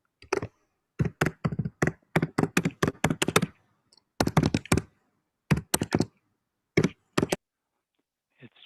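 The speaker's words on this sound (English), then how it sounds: "Oh, who's typing?" Keys on a computer keyboard clack in short bursts of rapid typing, separated by pauses, close and clear in an otherwise quiet room.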